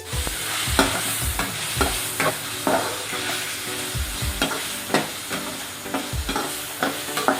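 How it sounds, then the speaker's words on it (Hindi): Chicken stir-fries in a pan for chow mein, a steady loud sizzle broken by repeated scraping stirs of the spatula throughout, with no voices. "ये हमारा चिकन फ्राई हो रहा है।"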